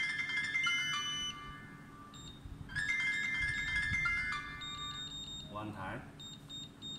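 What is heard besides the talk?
smart sensor safe wrong-password alarm beeping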